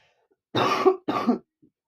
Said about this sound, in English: So I'm sorry for any coughing, because I can feel another one coming soon.